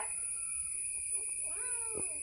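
A kitten gives a single short, faint meow toward the end, heard over a steady background hum with no talking.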